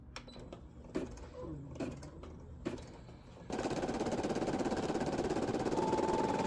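A Brother M380D embroidery machine starts stitching after a few scattered clicks and handling taps, then runs as a steady, rapid mechanical chatter with a fine rhythmic pulse, close and fairly loud.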